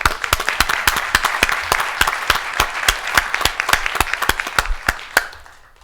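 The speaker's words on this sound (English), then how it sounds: "A round of applause for Susan." A small audience at an open-microphone session claps for a speaker, a run of distinct, fairly sparse hand claps with a loose rhythm, close and clear, tapering off at the end.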